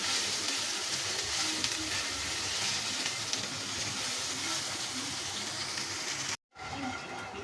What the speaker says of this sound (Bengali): এবার খোসাগুলো ওকে এর সঙ্গে একটু ভেজে নেব আমি।